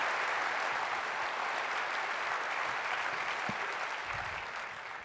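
Audience applause at a planners' conference opening keynote, a dense, steady wash of clapping from a large crowd, fairly distant and sustained, tapering slightly at the end.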